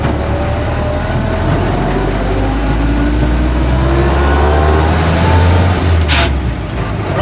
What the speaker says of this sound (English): take her out on the road here and see what it does